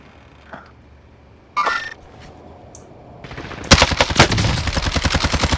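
Rapid automatic gunfire in a video game shootout starts after a few scattered clicks and short bursts, then turns into sustained loud rattling near the end.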